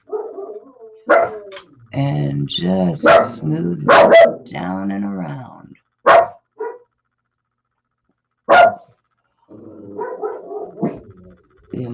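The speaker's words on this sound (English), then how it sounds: "sorry about the dogs there. Somebody's obviously outside walking theirs" Dogs bark outdoors in repeated sharp yips and bow-wows, fairly clear, mixed with a person talking nearby between and over the barks.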